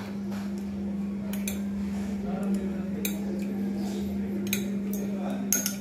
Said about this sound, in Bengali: এবার আমি এতে একটু একটু করে জল মেশাবো।